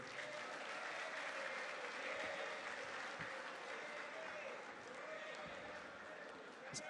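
An audience applauds at an installation ceremony for the Indonesian Chamber of Commerce board, a continuous, even patter of many hands heard from a distance, with some talk mixed in.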